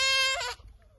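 A single sheep bleats once, a loud, close, wavering cry lasting about half a second that then stops, leaving faint background noise.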